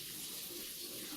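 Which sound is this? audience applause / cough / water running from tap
water running from tap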